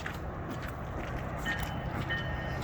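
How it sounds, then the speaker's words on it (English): An MBTA commuter train bound for Middleboro/Lakeville pulls into Braintree Station, a steady low rumble of rolling wheels with faint squeals, moderately distant and continuous with no talk. "Coming into the station is train, God knows what number it is, but it is running to Middleboro, Lakeville."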